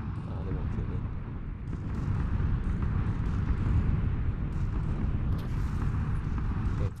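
Explosions in a shooter video game, a dense, continuous low rumble of blasts and booms that swells slightly midway and stays loud for the whole stretch, with a player talking over the top.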